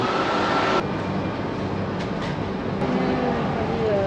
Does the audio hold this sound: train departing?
yes